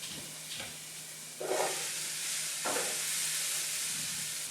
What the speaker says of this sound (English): I'm going to add my broccoli to the pan.